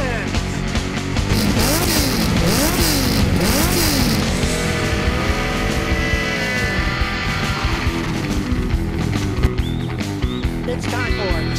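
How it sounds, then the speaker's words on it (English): Loud engine revving with rising and falling pitch sweeps, mixed with music and a lively voice over it. "Rev up your engines!"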